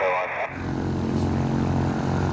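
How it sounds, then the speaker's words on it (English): An eVTOL aircraft taxiing with two rotors at high revs, a steady buzzing hum with a faint higher whine above it, fairly close and continuous. "This is the aircraft taxiing. This is just two rotors doing sort of high"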